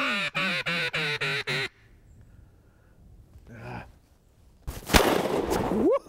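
A person imitates a duck with a run of six loud, rhythmic nasal quacks, then a pause with faint rustling and a brief soft call, followed by a loud shotgun blast out on a duck hunt.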